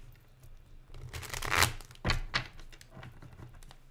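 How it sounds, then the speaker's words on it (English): A deck of playing cards shuffled by hand, giving a few close, crisp riffling and flapping bursts of uneven length and spacing, with no talk over them. "I'm just shuffling up for you, Ree."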